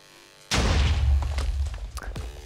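An IC2 nuclear reactor explosion in the Minecraft video game, a single sudden loud boom with a deep rumbling tail that fades over about two seconds.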